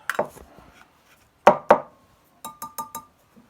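A glass or metal ink bottle for refurbishing a Commodore MPS 801 printer ribbon being handled, giving a few sharp clinks and knocks in small irregular clusters with quiet gaps between, close and clear.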